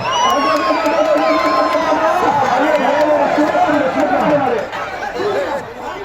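A packed gallery crowd at the Jallikattu bull-taming event in Natham roars and cheers continuously, a dense, loud mass of shouting and whooping voices that eases slightly toward the end.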